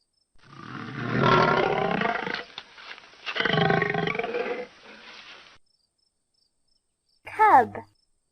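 A lion roars in two long, loud, rough bursts, then a quieter trailing grunt, followed by a short higher animal call at the end.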